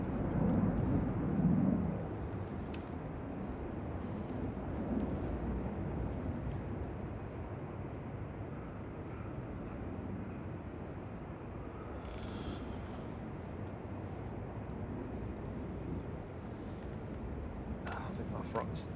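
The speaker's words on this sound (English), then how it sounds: "A380 is taxiing down past Terminal 3 now" An Airbus A380 taxiing at Manchester Airport on a gusty day gives a steady low engine rumble and wind-blown roar, continuous and moderately distant, with a voice talking over it.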